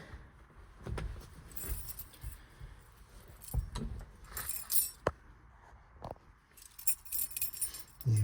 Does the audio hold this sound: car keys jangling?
yes